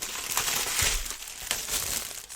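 Planner packaging being cut open, with brief crinkling and crunching of plastic wrap close by, a few sharp rustles over a couple of seconds with no talking.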